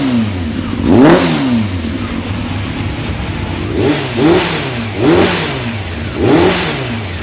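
Suzuki quad bike engine on a cold day, revving in repeated bursts that rise and fall over a steady running drone, three or four pulses close by with no talking.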